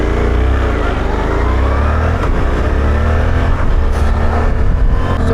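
A 2024 Suzuki V-Strom 800 RE adventure motorcycle engine pulls hard under acceleration, a loud, steady road-riding drone that rises in revs across the clip with continuous wind and road noise.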